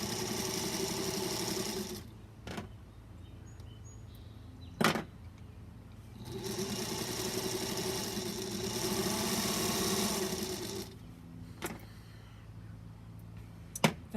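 Small yellow sewing machine fitted with a replacement motor, running in several bursts of steady whirring separated by pauses, with sharp clicks between runs, fairly close and without talk.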